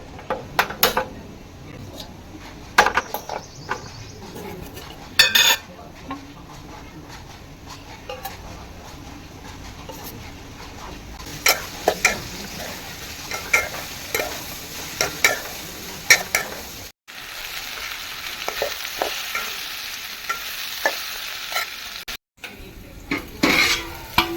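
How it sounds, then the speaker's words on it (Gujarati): Okra roasts in a pan on a home stove, with a soft ongoing sizzle broken by frequent clinks and scrapes of a utensil stirring against the pan, in irregular bursts throughout. "અને ભીંડા શેકી નાખીએ હવે."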